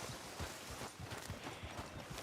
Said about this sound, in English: watch out for the horses.